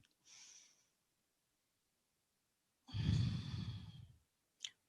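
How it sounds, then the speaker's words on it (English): Slow, deep breathing during a yoga stretch for shoulders and neck: a soft breath in, a pause, then a long, fuller exhale that fades out, ending with a brief sniff, close and quiet with no talking. "Give me one more big slow breath."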